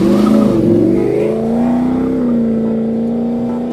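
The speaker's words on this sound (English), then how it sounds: "Turns out it's a red sports car. The car speeds forward at a breathtaking pace." A red toy sports car speeds forward with a loud, steady whirring engine-like drone that rises slightly in pitch and then holds, close and alone.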